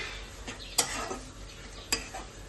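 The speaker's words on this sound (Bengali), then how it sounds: "তো ভালো করে এটা নাড়িয়ে নেবো" Cooked banana flower being stirred in a pan for a prawn dish, with a quiet frying hiss and two sharp clinks of a spatula against the metal, close but soft, no voices.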